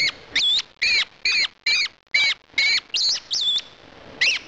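A captured robin indoors in a gym gives a rapid series of about ten loud, sharp chirps in an even, insistent rhythm, close by and alone with no talking.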